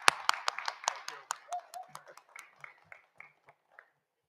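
A small gathering at a flag rededication ceremony greets a dean with sparse, distinct hand claps that quickly thin out and fade to silence within a few seconds.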